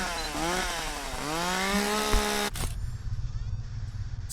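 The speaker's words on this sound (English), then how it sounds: "It's a chainsaw." A chainsaw in the horror video game Cursed Digicam roars loud and near, its pitch climbing and wavering for about two and a half seconds before cutting off abruptly into a quieter low rumble.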